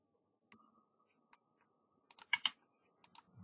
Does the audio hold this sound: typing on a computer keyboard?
yes